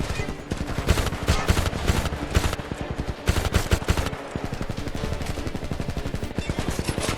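Rapid sustained machine gun fire in the video game Homefront, dense rattling bursts of shots at close range with barely any pause across the stretch.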